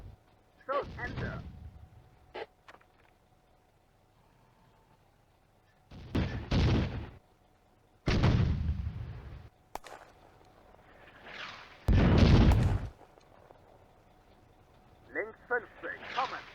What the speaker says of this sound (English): his squad is pinned down under anti-tank gun and mortar fire